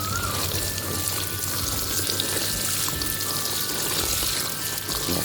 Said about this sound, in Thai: ปลูกเสร็จแล้วก็รดน้ำกันฮะ